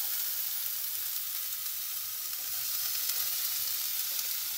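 Bell peppers hiss and sizzle steadily in a hot pan, a loud, continuous bright frying crackle with no pauses and no voices.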